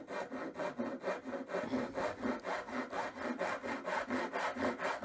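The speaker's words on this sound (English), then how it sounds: "some short strokes, to get a little area that my saw can rest into." A hand saw cuts into wood for a hand-made dovetail joint, its steady back-and-forth strokes rasping in an even, close rhythm with no talk over them.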